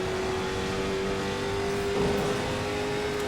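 A late model race car engine drones steadily in a racing simulator at Bristol Motor Speedway, a constant buzzing hum with a sharp, thin whine on top, fading slightly and roughening near the end as the motor fails.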